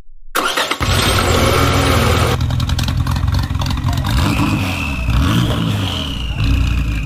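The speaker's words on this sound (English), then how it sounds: "Gentlemen, start your engines." Several race car engines start up together at the line of a prize race, then rev loudly and continuously with rising and falling pitch sweeps, close and dominant with no talking.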